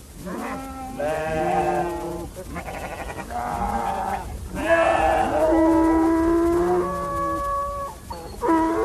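Several sheep on North Yemen rangelands bleat in overlapping, wavering calls, loud and close, one after another with barely a pause between them.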